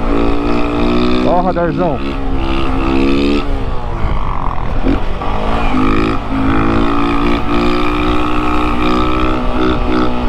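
A motorcycle engine restarts and revs, rising and falling in loud continuous pitch sweeps close by, while riders talk over it.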